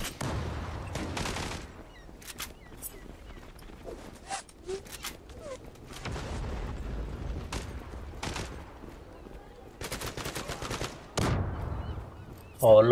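Gunfire in the online shooter Zula crackles in scattered short bursts and single shots at moderate distance, with quiet gaps between volleys.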